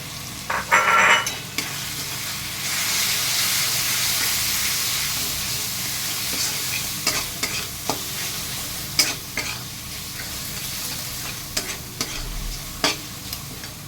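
Ground cumin, coriander, chilli, Kashmiri chilli and turmeric fry with chicken for a chicken kosha cooked without water. A steady, loud sizzle and hiss runs throughout, broken by scraping stirs and sharp clacks of the spoon against the pan.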